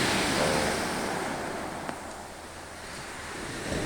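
Ocean waves wash continuously onto a beach, a steady rushing roar with wind noise buffeting the microphone.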